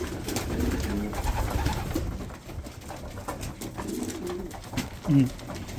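Pigeons in a breeding loft coo close by, their soft, throaty calls rising and falling over a steady background hum, with a louder coo near the end.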